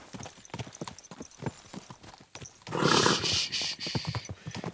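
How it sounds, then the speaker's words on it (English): Horse hooves clip-clop steadily in Kingdom Come Deliverance II, a rhythmic run of close hoofbeats that grows louder and busier partway through, with a brief whinny-like snort mixed in. "Easy, good horse."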